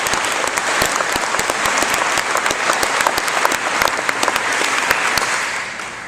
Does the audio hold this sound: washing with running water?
no